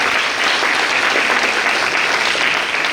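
A crowd claps loudly and steadily for an Eluru MLA at an event distributing essential supplies to disabled people, a sustained, even applause with no talk.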